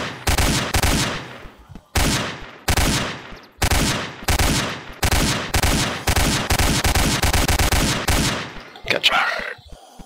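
Rapid gunfire in the Roblox game Apocalypse Games crackles in long, loud bursts separated by short pauses, near and sharp, ending in a scattered final burst.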